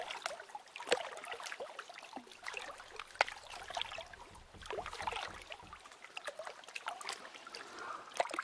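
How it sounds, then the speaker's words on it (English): Video game water trickles and splashes steadily, with occasional sharper drips and sloshes, moderately quiet and close. "How do we still hear the water?"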